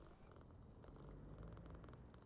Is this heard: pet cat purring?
yes